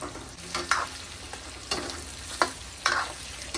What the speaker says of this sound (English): Then add garlic and continue to fry for about a minute until fragrance.